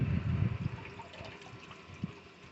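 Low sloshing and splashing of water as fish or meat is rinsed, fairly close, fading into softer trickles and a few drips.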